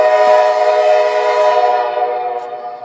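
A Dash 8 locomotive horn sounds one long, loud chord that holds steady and then fades slightly toward the end, with no voices over it.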